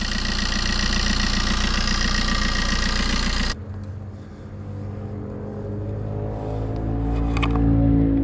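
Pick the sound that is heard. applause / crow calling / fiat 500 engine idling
fiat 500 engine idling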